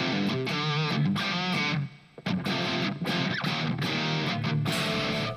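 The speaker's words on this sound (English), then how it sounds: "That reverb that you're hearing there is actually part of my Torpedo Cab" Distorted electric guitar playing chords and riffs, washed in a long, spacious cathedral room reverb from a Two Notes Torpedo cab simulator; a brief drop near the middle before the playing resumes.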